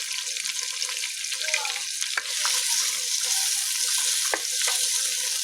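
Chopped onions frying in a pan as the first step of a chicken biryani, a steady close sizzle throughout with a few sharp clinks of a utensil stirring them around.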